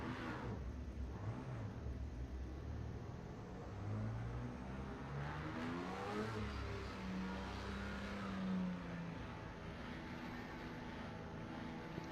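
A Le Mans prototype race car, Toyota TS050 or Audi R18, drives at Fuji in Project CARS 2, its engine droning steadily with rising and falling revs and a faint whir.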